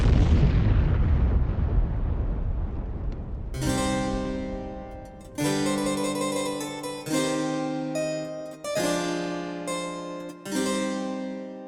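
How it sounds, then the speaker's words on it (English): An atomic bomb dropped from an aircraft explodes in a deep, rolling roar that fades over a few seconds. Loud struck musical chords then take over. "Thomas releases the bomb."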